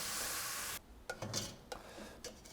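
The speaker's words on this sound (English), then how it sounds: "try and encourage it around the pan" Minced Bolognese meat browns in a hot frying pan, a loud sizzle that drops away as it is pushed around. Scattered scrapes and light metallic clinks follow from a utensil stirring in the pan.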